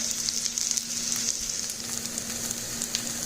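Smashed French potatoes fry over high heat in clarified butter, giving a steady bright sizzle with small pops and crackles throughout and no voices.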